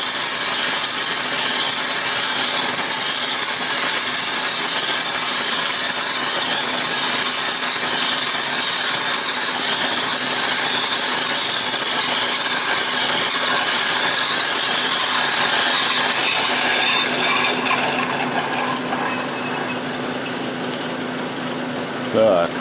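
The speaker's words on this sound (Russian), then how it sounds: "Да, сейчас сверлит намного лучше." A lathe drills a hole through an abrasive grinding wheel in a mold-making tool shop, giving a steady, loud, harsh grinding whir that runs unbroken throughout and fades slightly near the end.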